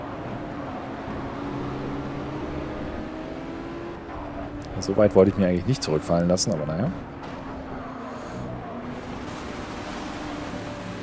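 Racing car engines drone steadily at Bathurst in Project Cars, with a Ford MkIV among the field, the hum continuous while someone talks over it midway.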